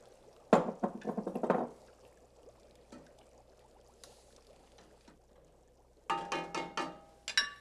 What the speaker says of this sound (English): A big splash of cream.